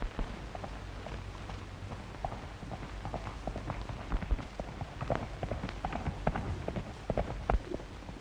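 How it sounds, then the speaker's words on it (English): A horse's hooves clop in a steady, uneven patter that grows slightly louder, mixed with a rushing outdoor background. "Here comes his horse."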